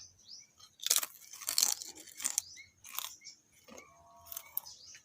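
Crispy barbecue-flavoured fried banana chips being bitten and chewed up close, a run of sharp crunches in quick bursts with quiet pauses between, no speech.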